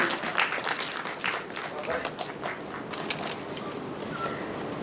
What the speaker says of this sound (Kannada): ನಮ್ಮ ಪ್ರೀತಿಯ ಮಾಲ್ತಿ ಸುಧೀರ್ ಅವ್ರಿಗೊಂದು ಜೋರಾದ ಚಪ್ಪಾಳೆ ಬರಲಿ